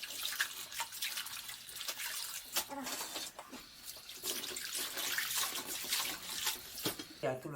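Salted cabbage for Korean kimchi is rinsed under running water in a sink, with splashing, swishing and tap flow. A person talks at times over the water.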